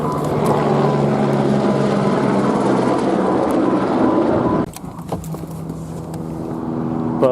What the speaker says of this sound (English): Notice directly overhead. See, here's my car. There's the helicopter.